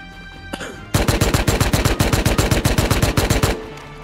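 Automatic gunfire in the video game Rust rattles off in a rapid burst of about twenty close, loud shots lasting under three seconds.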